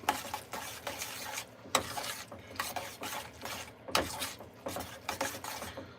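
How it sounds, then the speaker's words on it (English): Food, Kraft dinner and other ingredients in a skillet, being stirred with a utensil that rasps and scrapes against the pot in uneven, fairly quiet strokes, with occasional louder scrapes and no talking. "Keep stirring it up."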